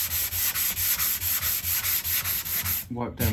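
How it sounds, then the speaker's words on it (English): Fine 240-grit sandpaper rubs back and forth over the wooden body of a 1969 Martin D-28 acoustic guitar, a brisk, rhythmic, close scratching of about a dozen strokes, followed by a brief voice. "240 grit and we'll sand it"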